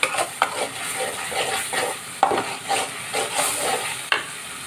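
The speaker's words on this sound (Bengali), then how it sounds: "এখন মশলা ভালো করে কষিয়ে নিব মশলাটা" Chilli and turmeric powders with whole spices fry in a pan, a close hiss and sizzle broken by repeated sharp scrapes and knocks of a stirring spoon.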